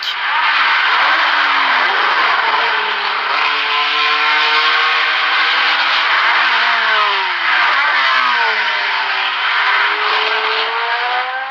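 Race cars from the 1973 Le Mans 24 Hours flat out on the Hunaudières straight, a loud sustained engine roar with shifting pitch as cars pass close, no speech.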